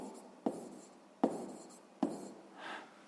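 Pen strokes scratch across paper in three distinct taps and drags while a sixth-grade math exercise is written out by hand, close and quiet.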